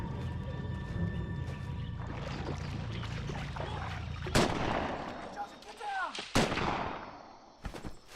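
Scattered rifle shots from Japanese snipers hidden in dense, humid jungle brush, fired at Marines during World War II: a few sharp, loud cracks standing out over a rumbling background.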